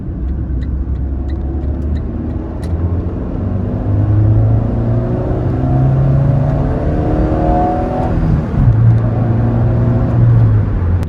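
A Renault Twingo 2 with the 16-valve engine revs loudly and close, its pitch climbing and dropping through several rising whining sweeps with a brief dip before winding up again.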